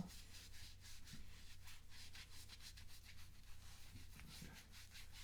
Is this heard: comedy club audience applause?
no